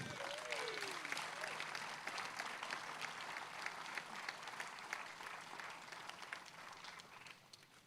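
Audience applause for Macy Lee Reeves at an Australia Day 2020 community event, a steady, dense clatter of many hands sustained for about eight seconds before easing slightly at the end, with a brief voice early on.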